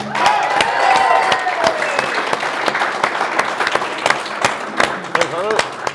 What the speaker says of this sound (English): a big round of applause for Conal Keenan, who's bringing up the Senior Cup